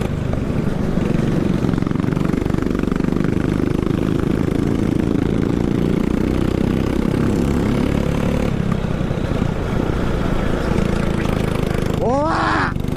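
Go-kart engine revving and accelerating on a kart track, a steady buzzing drone that rises and falls continuously, with people talking briefly near the end.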